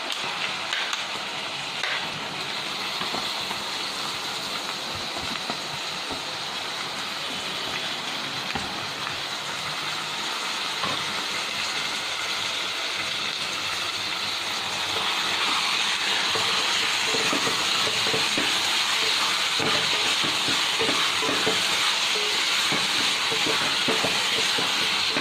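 Minced meat (keema) frying in hot oil with potatoes, a steady broadband hiss and sizzle that swells louder over the second half and holds close and continuous, with no talk.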